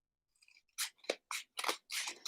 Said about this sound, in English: And you're going to cut as many as you have rolls.